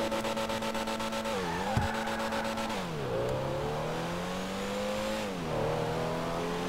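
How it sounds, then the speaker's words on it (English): Pfister Comet S2 sports car accelerating in GTA Online, with a steady engine drone rising in pitch through several gear shifts, each marked by a brief dip before climbing again, loud and continuous with no talk. "Going to the top speed test, the first one is going to be the stock car."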